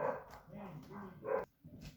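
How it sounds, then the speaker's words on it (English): Several dogs bark and yelp in short bursts in the background of a room, fairly faint and partly mixed with a voice. "ignore the dogs who are yelling real quick"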